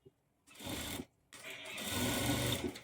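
A sewing machine stitching the folded hem of a blouse, running in two bursts: a short whirring run, a brief pause, then a longer, steadier stretch of close, moderately loud mechanical hum.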